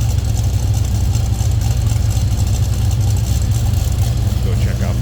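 A 1969 Oldsmobile 442 with a 455 V8 idling, a loud, steady low rumble with a pulsing lopey beat heard close up from start to finish, with a voice speaking over it.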